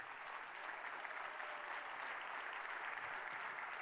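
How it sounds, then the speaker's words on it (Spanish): A church congregation applauding together during a sermon, a dense, even wash of clapping heard from a distance, steady and sustained with no voices standing out. "Con ese aplauso está diciendo: Señor, yo creo."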